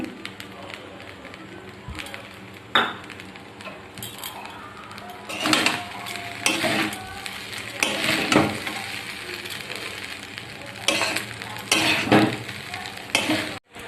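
Fried rice being stir-fried with ghee and garam masala powder, with scraping stirs and soft sizzling that come in bursts, close and fairly loud.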